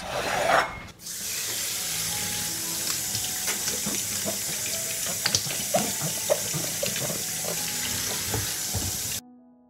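Fresh peppers rinsed under a running kitchen tap, a steady close rush of water with rubbing and handling sounds throughout, broken by a short gap near the start before the flow resumes.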